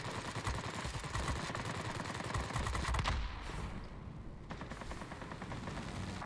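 7mm aircraft machine guns on a fighter in a flight combat game, firing long continuous rattling bursts that dominate the sound, with a short lull before firing resumes.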